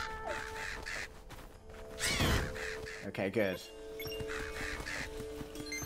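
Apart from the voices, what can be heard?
crows cawing in Legend of Zelda: Echoes of Wisdom video game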